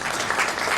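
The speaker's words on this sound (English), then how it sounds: "So a round of applause for the lady" A brief burst of dense audience applause welcoming the opening keynote speaker at a Kaizen congress in India, steady and fairly loud with no voices.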